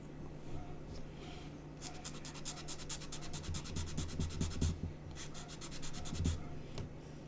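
A blade scrapes and saws at a small plastic part of a 1/35 scale Thunder Model Scammell Pioneer and trailer kit. The close, quiet strokes come in quick rhythmic bursts with brief pauses between them.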